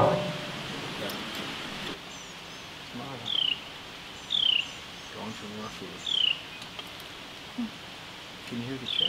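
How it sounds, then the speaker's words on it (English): Baby birds chirp for food nearby: short, high, repeated calls come in small bursts every second or so, along with scraping and digging noises at a shop foundation dig site outdoors. "The little birds are over there asking for breakfast."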